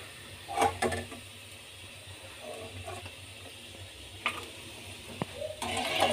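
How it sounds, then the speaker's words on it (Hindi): Kachri frying in a pan at home, a soft, low hiss with scattered small crackles and a few sharper ticks, fairly quiet and swelling slightly near the end. "कचरी को फ्राई कर रही हूँ"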